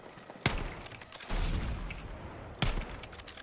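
Battlefield 6 combat with close, booming explosions and gunfire, three heavy hits with rumbling tails between them, loud and dense.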